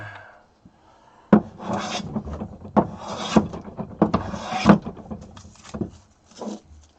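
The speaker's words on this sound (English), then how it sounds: "I feel like this is all the stream has been, is me planing" A hand plane is pushed along wood in a workshop, giving several rasping strokes, each opening with a sharp bite and then a scraping hiss, heard close and alone.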